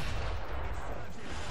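Heavy rumbling boom of tank cannon fire in the War Thunder video game, a low, dense blast at the start fading into a sustained rumble.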